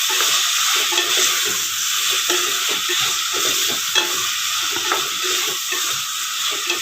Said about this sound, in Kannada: ಇದೊಂದು 2 ಸೆಕೆಂಡು ಎಣ್ಣೆಯಲ್ಲಿ ರೋಸ್ಟ್ ಆದರೆ ನೋಡಿ